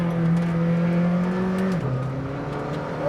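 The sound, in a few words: McLaren GTR race car engine revving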